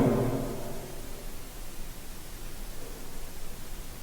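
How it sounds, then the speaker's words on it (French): A handheld Spirit Box ghost-hunting device hisses out steady white noise during a paranormal investigation in an orphanage, with a brief louder low rumble at the start before settling into a continuous even static. "C'est une Spirit Box. Elle émet un son, un bruit blanc."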